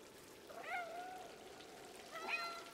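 Two short in-game cat meows from Stray, one near the start and one near the end, fairly faint over a soft rain-like background hiss with no speech.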